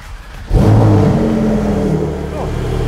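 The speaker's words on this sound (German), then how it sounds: "Wir starten jetzt das erste Mal das Auto." A Porsche 992 Turbo S engine cranks and fires for the first time, catching abruptly into a loud, close roar that settles into a rough, steady idle.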